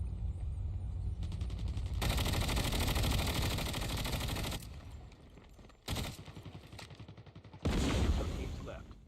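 A default AK rifle fires in Call of Duty: Mobile battle royale, loud sustained automatic bursts with rapid repeating shots, broken by short pauses and then resuming, up close.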